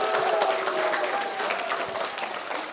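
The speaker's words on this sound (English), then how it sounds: "I think we need a round of applause for that" An audience at a children's book event in Bedford gives a steady round of applause, a dense continuous patter of many hands filling the room at even loudness throughout.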